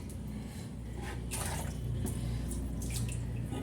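Running water in a bathroom while things are washed by hand, a steady close hiss and splash of flowing water with faint handling sounds, no talking.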